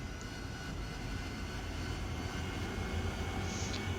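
A simulated AV-8B Harrier jet engine in DCS World spools up as the throttle is advanced, producing a steady, broad roar that holds at a constant loudness and grows slightly fuller toward the end, with no voices.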